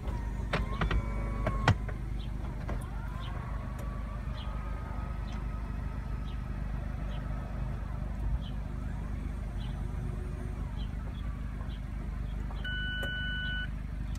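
Retractable hardtop roof of a 2017 Mazda MX-5 RF operating, a steady electric motor whir with a few mechanical clunks and short beeps near the start, and a chime toward the end.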